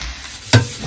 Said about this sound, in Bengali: ভালো করে ভাজতে হবে।